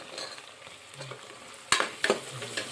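Tomatoes with curry leaves frying in hot oil, a soft steady sizzle under scattered scrapes and clinks of a stirring utensil against the pan, close and fairly quiet, no talk.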